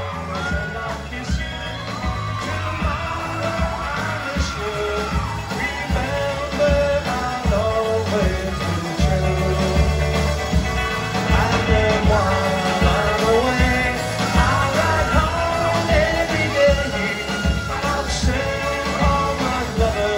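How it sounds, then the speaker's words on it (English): A concert crowd at a tribute show in Seattle, mostly girls, screaming and yelling in a loud, sustained roar of cheers and whoops over amplified music. "Let us hear you scream, girls."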